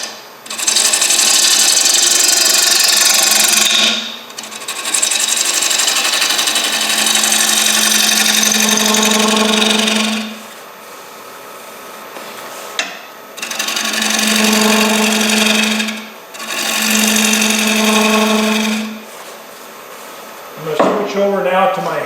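A wood lathe spins a bowl blank while a gouge roughs it round, producing loud sustained cutting roars in long bursts separated by brief quieter pauses of the motor running, close by.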